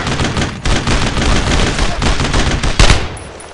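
Sustained gunfire and machine-gun bursts in the World War II shooter Brothers In Arms: Road To Hill 30, pushing into Carentan, loud and continuous with a heavier blast near the end.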